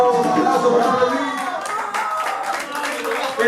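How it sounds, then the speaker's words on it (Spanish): An audience at a freestyle rap battle claps in a brief burst of applause, with voices mixed into the crowd noise. "Aplauso por favor, Luis."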